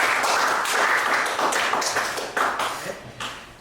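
Students in a classroom clapping together, a steady patter of many hands that holds for a few seconds and then thins out, fairly close and with no talk over it.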